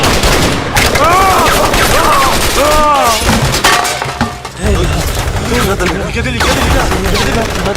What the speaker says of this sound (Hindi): ये गोली की आवाज।